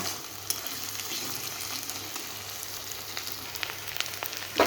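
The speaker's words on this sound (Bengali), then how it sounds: "আদা রসুনটাকে একটু ভেজে নেব।" Ginger-garlic paste with onion fries in a pan for a tomato chicken curry, a steady close sizzle with occasional stirring scrapes and a louder clatter at the very end.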